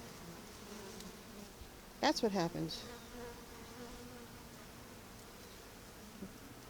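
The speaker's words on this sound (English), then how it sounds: "Don't disturb the bees while they're eating." Bees feeding outdoors in spring give a faint, steady buzz that continues throughout, briefly interrupted by a short spoken phrase near the middle.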